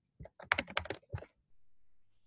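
Typing on a computer keyboard to enter a git command, a quick burst of close, crisp key clicks followed by a brief pause and a final keystroke, with a faint low hum afterward.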